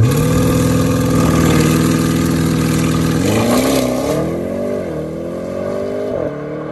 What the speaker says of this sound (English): And that's what you need to have it in to launch control the RS6.